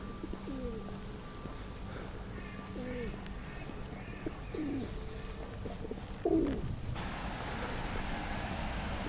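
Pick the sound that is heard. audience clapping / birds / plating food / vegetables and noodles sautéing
birds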